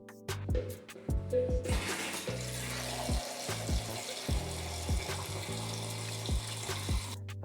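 Water splashes and pours into a container, ready for wiping down a mud-caked vehicle after rain, with a steady rushing fill broken by repeated close, hollow thumps and knocks.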